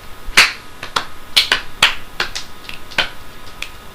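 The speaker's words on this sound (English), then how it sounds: "The clapping machine still works." Sharp, separate hand claps from a clapping machine, about a dozen crisp close strikes in an uneven rhythm with no talk.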